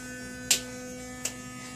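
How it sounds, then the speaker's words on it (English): An electric toothbrush hums a steady, faint tonal buzz with a constant pitch, broken twice by brief clicks or bumps. "my toothbrush makes a tone"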